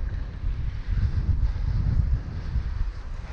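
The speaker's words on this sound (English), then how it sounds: "So the wind's sort of coming in from my left a bit here." Wind gusts in from the left across an open road before a storm, producing a low, rumbling buffet on the microphone that swells and eases without pause.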